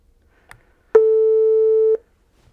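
A synthesized oscillator tone generated in a web browser sounds for exactly one second, a clean steady electronic note that starts and stops abruptly, alone after a faint click.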